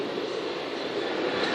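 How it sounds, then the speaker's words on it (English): A Southern class 455 electric passenger train pulls out of Brockley station on the Brighton main line, a steady broadband rumble and hiss of wheels and traction close by, continuous and loud with no talk. "now ready to depart is the 1507 Southern service to Caterham, departing bang on time"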